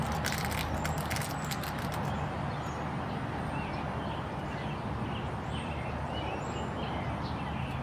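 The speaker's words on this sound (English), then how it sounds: "if you hear the birds, those are real birds in my background" Real birds chirp outdoors in a morning garden, faint scattered calls over a steady broadband background that continues through the whole stretch.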